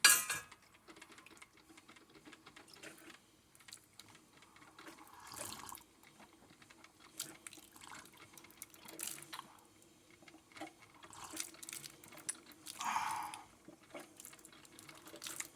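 Coffee maker pushing water through its heater while used to cook ramen noodles, quiet trickling and gurgling with occasional glassy clinks and short bursts of spurting water, fairly faint and close with no talk.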